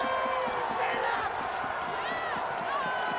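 Spectators cheering at a rugby league grand final in New Zealand, a sustained, loud crowd roar with whoops and shouts, steady throughout with a faint rhythmic thumping underneath.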